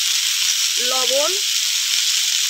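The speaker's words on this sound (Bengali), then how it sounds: "হলুদ দিয়ে ভালো করে সবজিটা কষিয়ে নেব" Potatoes, sweet potatoes, carrots and plantain fry in a pan with salt and turmeric, giving a loud, steady, close sizzling hiss throughout, with a brief squealing tone rising out of it midway.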